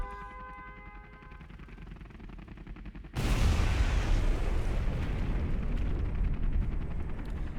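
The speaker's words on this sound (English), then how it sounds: "The nuke landing there, but it's not enough to clean all of that off." A nuclear strike detonates in the Generals Evolution strategy game, a sudden loud broadband blast that cuts in after quieter game music and then rumbles on as a sustained heavy roar.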